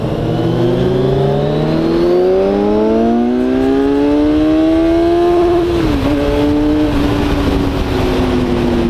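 A 2015 Kawasaki Z1000 motorcycle engine revs hard and close, its pitch climbing steadily to the fuel cut, where it stutters briefly before holding a high, loud, continuous roar.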